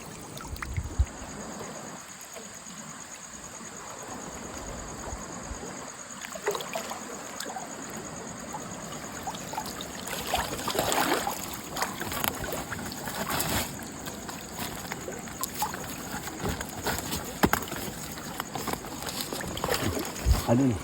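River water sloshing and trickling around someone wading knee-deep at night while hunting fish and crabs, a steady close wash of moving water with scattered splashes, and people talking over it.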